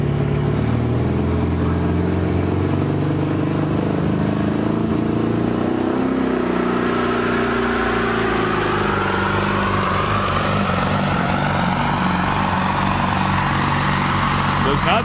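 A pulling truck called Some Assembly Required, the Big Mac, roars loud and close on a tractor and truck pulling track in Goshen, Indiana, its engine sounding short on RPM as if in the wrong gear, the pitch shifting and rising partway through.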